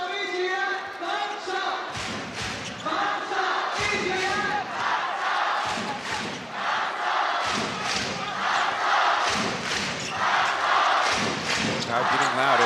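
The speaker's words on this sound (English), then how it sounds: "Crowd getting loud" A loud indoor crowd at a pro basketball game, Formosa Dreamers vs Taipei Fubon Braves, chanting and yelling in rhythmic surges, with ball bounces and thuds between the roars.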